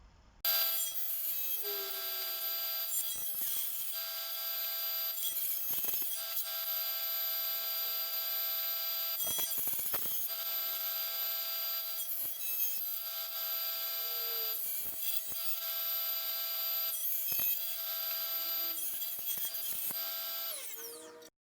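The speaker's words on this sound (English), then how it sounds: "I've set my table saw to a width of 40 millimeters, so I'm just going to take these pieces and trim them down to 40 millimeters" Table saw trimming pallet wood pieces to width, a steady loud whine with repeated rasping cuts as each piece feeds through, running continuously close up.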